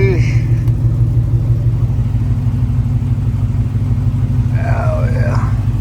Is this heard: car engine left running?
yes